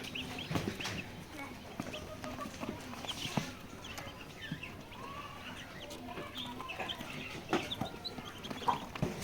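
Two-day-old layer chicks cheep in a crowded poultry-chick sale, a busy chorus of small peeps with some clucking adult fowl and low market noise beneath, moderately loud throughout.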